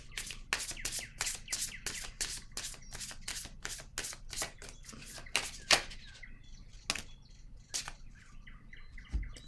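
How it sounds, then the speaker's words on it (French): Quiet card handling at a table: a rapid run of soft slaps and flicks as cards are laid down one after another, thinning to a few scattered placements near the end. "Je vais déposer une carte rose sur ces 3."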